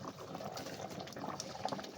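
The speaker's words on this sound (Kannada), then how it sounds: "ಈಗ ಅಕ್ಕಿ ಹಾಕಿ ಕುದೀತಾ ಇದೆ" Rice boils in water in a pot for a village-style veg pulao, a soft continuous bubbling and gurgling heard close and fairly quiet.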